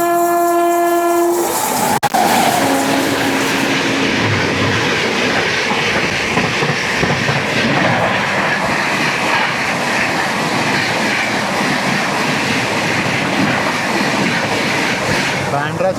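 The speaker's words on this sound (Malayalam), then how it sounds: "ബാൻഡ്ര ചണ്ഡീഗഡ് എക്സ്പ്രസ് ആണ്" A Bandra–Chandigarh Express races past at speed, its horn blaring loudly at the start before the rolling roar of the coaches and the clatter of wheels on rails take over, steady and close for the rest of the pass.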